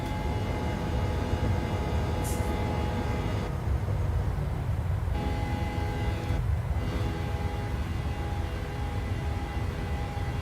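Simulated Boeing 737 airliner climbing out of Chicago O'Hare in a flight simulator game, a steady, loud wash of engine roar and broadband rumble that holds level throughout, with faint tonal hums and no voices.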